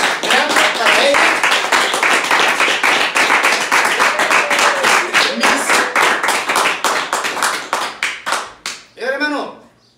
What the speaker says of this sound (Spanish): Un aplauso grande para ellos.